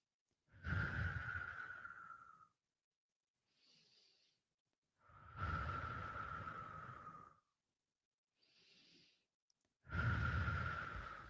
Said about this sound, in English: take 3 deep breaths, breathing in life force energy, breathing out when no longer supports you